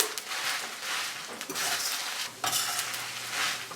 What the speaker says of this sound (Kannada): ಕೊತ್ತಂಬರಿ ಬೀಜ ಗಸಗಸೆ ಹಾಕಿ ಮತ್ತೆ ಮಿಕ್ಸ್ ಮಾಡಿ